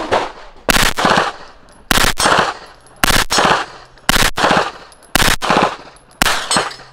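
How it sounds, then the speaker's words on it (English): A 9mm bullpup rifle fires on full auto in six short loud bursts at regular intervals, each followed by a brief echoing decay on an indoor training range. "Let's go right into shooting it and see what it looks like. Full auto."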